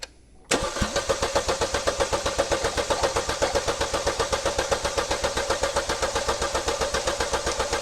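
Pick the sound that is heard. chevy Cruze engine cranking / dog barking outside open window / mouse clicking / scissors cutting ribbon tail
chevy Cruze engine cranking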